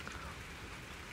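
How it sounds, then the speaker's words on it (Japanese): Heavy rain pours down in a dense, steady hiss, constant and fairly loud with no voices over it. "雨がだいぶ激しくなってきた。"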